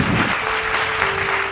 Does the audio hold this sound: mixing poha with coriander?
no